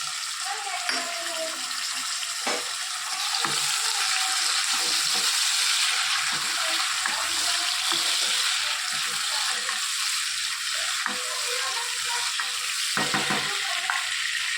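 Eggplant, cauliflower and fenugreek leaves fry in a pan for a curry with garlic, green chillies and tomatoes, a steady loud sizzle broken by scattered clinks and stirring knocks throughout.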